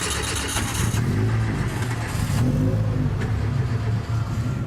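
A racing car engine drives out of the pit lane at the limited pit speed, with a loud, steady engine note and some mild revving changes throughout.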